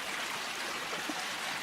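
Floodwater flowing out of a drainage tile in a hollow after heavy rain, a steady broadband rushing and trickling stream, close and continuous with no other sounds.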